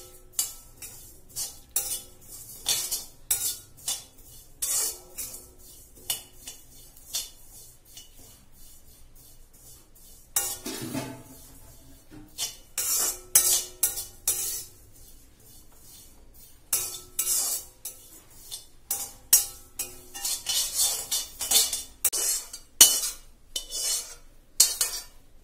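Ajwain and cumin seeds are roasted in a pan while a metal spoon stirs and scrapes them, producing irregular clinks and rasping scrapes close up, with no voices over them.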